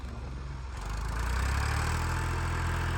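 Tractor engine idling outdoors in snow at a temple, a steady low rumble that swells louder after the first second and holds continuous and close.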